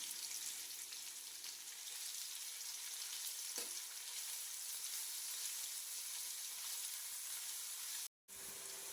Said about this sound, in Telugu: ఇప్పుడు మ్యారినేట్ చేసుకోవడానికి ఫ్రైడ్ ఆనియన్స్ చేసుకోవాలి